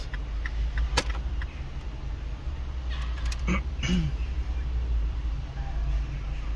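Steady low road rumble from inside a car driving past another vehicle, with a few brief clicks and faint voices talking in the cabin.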